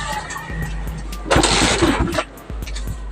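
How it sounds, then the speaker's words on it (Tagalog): A Rusi motorcycle is kicked repeatedly and struggles to start, with a brief sputtering engine burst between low thumps and a voice speaking nearby. "tingnan nyo kung gaano kahirap i-start"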